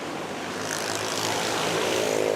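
Aircraft engines roar steadily and loudly at Manila NAIA airport near runway 06, a broad continuous propeller-type drone that swells slightly toward the end, with no voices.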